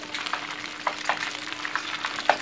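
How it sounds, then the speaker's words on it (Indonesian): Oyster mushroom sempol coated in egg fries in hot oil, giving a steady close crackling sizzle with small bursts of popping spatter throughout. "Ini sampel jamurnya akan saya goreng sampai telur yang bagian bawah itu matang ya."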